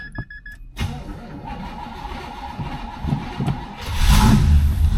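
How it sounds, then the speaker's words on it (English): A 1981 Oldsmobile 98 Regency engine catches on a cold start after sitting over the weekend. It settles into a rough idle close by, then is revved louder near the end. "Had to give her a little bit of gas. It's a cold start."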